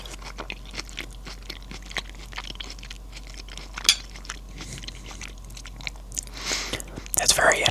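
Close chewing of orange stir-fry pulled pork with onion, a string of soft wet bites and crunches, getting denser and louder toward the end.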